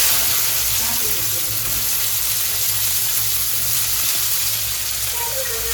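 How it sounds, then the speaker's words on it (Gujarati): Shredded cabbage drops into hot oil tempered with mustard seeds, giving a loud, continuous close sizzle that holds steady throughout with faint background voices. "તો કોબી વઘાર નાખીએ"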